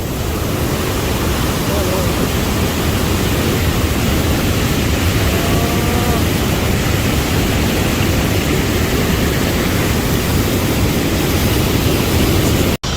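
Forest waterfall, a loud, steady roar of rushing water like broadband hiss that fills the whole clip, with a voice faintly under it.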